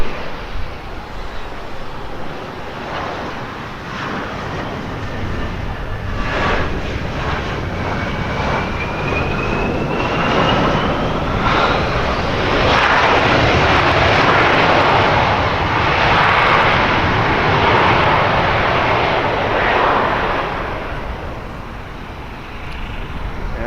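A fixed-wing airliner landing at Portland airport, its engines a steady, loud roar that swells through the middle and tapers slightly at the end, with a faint rising whine over broadband jet rumble.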